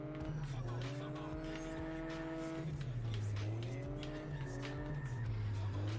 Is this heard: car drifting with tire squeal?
yes